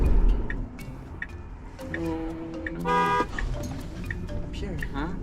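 A car horn beeps once in a short burst partway through, heard among passing street traffic while people talk nearby in a car on a city street.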